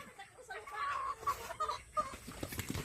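Farmyard chickens cluck softly near a feeding area, giving a few short, faint clucks over a low outdoor background, with a little quiet talk mixed in.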